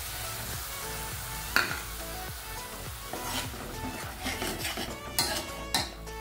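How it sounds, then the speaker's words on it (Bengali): Soaked ground spice paste hits hot oil in a pan and sizzles, while a utensil scrapes and knocks against the metal in a steady, repeated stirring rhythm, close and moderately loud. "এখন গুলে রাখা যেই গুঁড়ো মশলাগুলো রয়েছে সেটা আমি দিয়ে দেবো"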